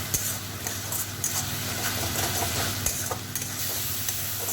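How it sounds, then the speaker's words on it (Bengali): Red chilli powder and cumin-coriander powder fry into a spice paste in a pan for a fish curry, giving a loud, close, steady sizzle with frequent scraping stir strokes and light clinks of the utensil. "এখন আমি মশলাটাকে ভালো করে কষিয়ে নেব।"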